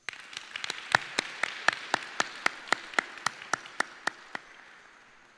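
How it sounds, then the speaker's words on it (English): Applause at a US Space Force transfer ceremony at Edwards Air Force Base brings a soft wash of clapping from the crowd, with one crisp, evenly spaced clap standing out on top before it all fades away. "Please give one more round of applause to our newest officer and enlisted members of the United States Space Force."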